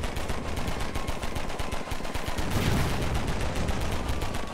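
Rapid automatic gunfire in the Roblox war game Shell Shock, a dense, loud stream of shots that keeps going without a break and swells toward the end.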